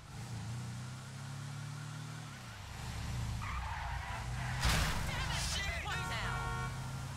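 A car engine revving in GTA 5, a steady drone that rises in pitch, then tire squeal and skidding near the end, with someone talking over it.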